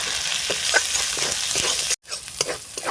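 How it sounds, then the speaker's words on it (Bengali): Ground spices of turmeric, cumin, coriander and chilli fry in a pan with a steady close sizzle while a utensil stirs them in soft repeated scrapes, broken by a brief silent gap. "মশলা কষানো হয়ে গেছে"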